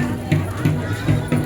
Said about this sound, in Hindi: इधर भी बहुत सारा भीड़ चल रहा है देखने से